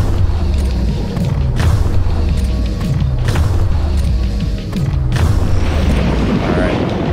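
Harpoon-style shots at a fish in the underwater game Dave the Diver, several loud thumping impacts at intervals over a steady low background, with talk.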